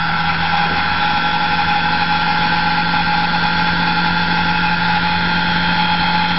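A permanent magnet motor assembly runs with a loud, steady tonal whine and hum that holds constant for the whole stretch, with no voices.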